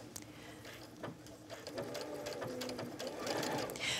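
A sewing machine runs in short bursts as it stitches a skirt with contrast thread, its needle chattering quietly close by with small pauses between runs.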